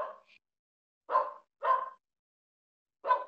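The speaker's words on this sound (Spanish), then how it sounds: "casi no te escuché por el perrito" A small dog barks four times in short, separate yaps, the first two close together and the last after a pause, fairly near and loud with no talk over them.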